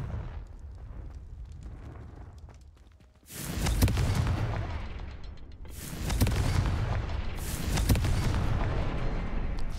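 Fiery Confringo spell blasts in the game Hogwarts Legacy, two or three loud booming explosions with rumbling tails, the first striking after a stretch of low background ambience and the others following in quick succession.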